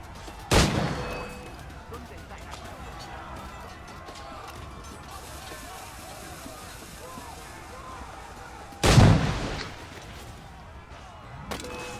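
Gunfire in the game Assassin's Creed Black Flag, three loud separate shots spaced several seconds apart over steady game ambience and movement, with someone talking at points.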